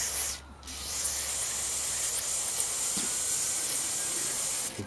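An aerosol can of MAF sensor cleaner, running low, sprays on a Ford's mass airflow sensor: a steady, close hiss that lasts several seconds after a brief start.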